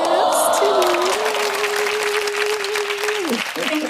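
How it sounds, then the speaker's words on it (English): A small audience claps steadily and continuously for a few seconds under light background music, with no talk. "Hand claps"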